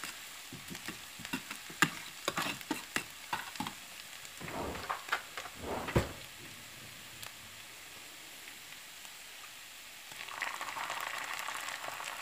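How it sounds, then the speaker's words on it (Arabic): Garlic and onion fry together in a pan for a Syrian vegetable pasta dish. Light clicks and stirring taps come first, then a steady, soft sizzle rises toward the end. "بعد ما يتقلي البصل شوي بنحط الثوم نقليه مع بعض"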